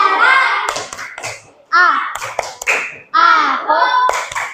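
Fourth-grade schoolchildren in a classroom perform a clapping chant, their sharp hand claps landing in rhythmic bursts between loud, close chanted phrases sung together.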